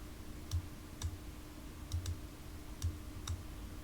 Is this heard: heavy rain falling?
no